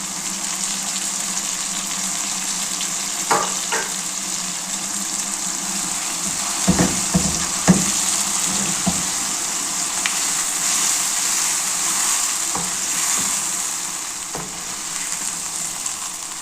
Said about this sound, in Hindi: तो चलें भी बस यहाँ पे अच्छे से हमने इसको भून लिया है